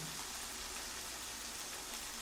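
Rain falling in a Hindi cartoon about a small bird and an eagle: a dense, even hiss of steady rainfall that fills the whole clip, with no voices.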